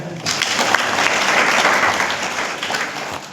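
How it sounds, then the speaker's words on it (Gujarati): A seated audience gives steady, dense applause for students after a school talk, the clapping loud and continuous for several seconds with no speech over it. "આપણે એમને તાળીઓ આપીએ"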